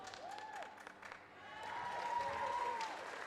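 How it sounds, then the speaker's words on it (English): Lincoln supporters cheer and applaud after a goal at a tertiary netball championship match, a fairly distant crowd swell of clapping and cheering that builds slightly toward the end. "And there's a few Lincoln supporters cheering every time they get a goal in."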